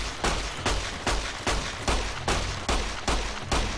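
Gunfire in Fallout New Vegas: a steady run of about eight evenly spaced, loud shots, close and punchy, each with a short ringing tail, no talking over them.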